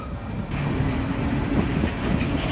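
A Union Pacific coal train of empty cars headed back to Wyoming mines rolls past steadily, its wheels rumbling and clacking on the rails in a continuous loud stream.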